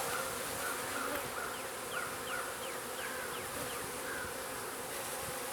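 Honey bees swarm around an opened hive, a dense continuous buzz close by with individual bees droning past in rising and falling sweeps, and no talk.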